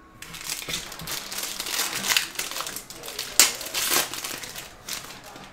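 A Panini Mosaic basketball hobby card pack is ripped open, its foil crinkling and tearing in close, steady bursts with a sharper rip near the middle, and no voice over it.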